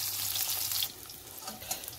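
Brinjal slices sizzle in hot oil, loud and crackly at first and then settling to a quieter, softer frying hiss with light scattered pops, close by and without talk.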